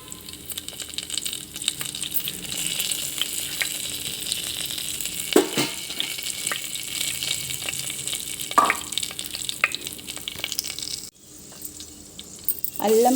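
Cumin seeds, black pepper and dried red chillies frying in hot oil, a continuous close sizzle with occasional stirring scrapes and pops, briefly dipping before resuming loudly.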